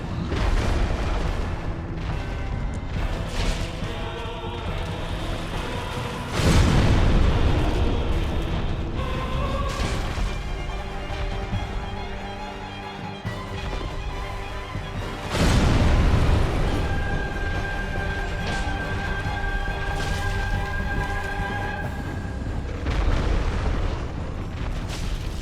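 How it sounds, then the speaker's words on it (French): Heavy booming explosions during a boss fight in the video game Dark Souls Remastered: two loud deep blasts stand out over a continuous dense rumble of game sound. "Le seul truc que je reproche à ce boss, c'est les putains d'explosions abusées."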